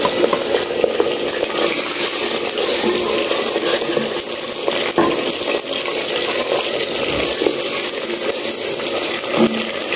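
Pieces of mutton hit hot oil in a pot for degi aloo gosht, giving a steady, loud broadband sizzle that holds evenly throughout with no talking.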